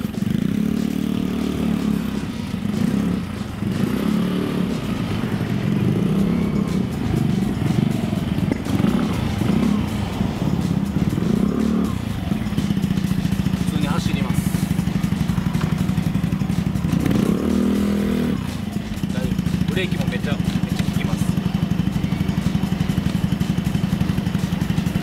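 A Yamaha Majesty 125 scooter engine drones steadily while riding, with the pitch rising and falling as it revs up and eases off, close and continuous.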